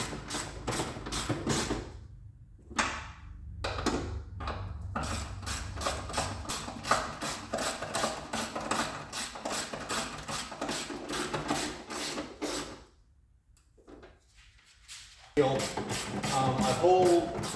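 A hand ratchet turns bolts on the cowling of a 2021 Nissan Murano, giving steady, close, rapid clicking in long runs broken by brief pauses.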